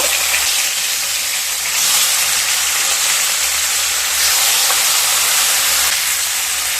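Flipped katla fish pieces keep frying in oil as both sides brown, producing a loud, even hiss of sizzling that runs unbroken, close and without any voices.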